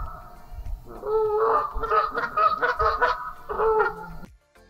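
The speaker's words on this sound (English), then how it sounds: "they have this problem with the geese" A flock of geese clustered at a lakeside village honks loudly and close by, in dense overlapping bursts that rise, pause briefly, then return before cutting off abruptly.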